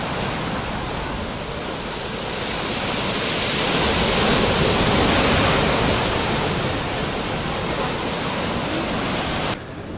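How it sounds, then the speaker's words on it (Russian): Stormy sea surf at Alushta on the Black Sea, loud continuous roar of waves crashing over beach groynes, a dense wash of water and wind noise that swells in the middle and stays constant throughout. "Какие волны, а? Выше бун, вон, посмотрите,"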